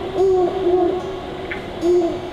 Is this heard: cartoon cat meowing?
no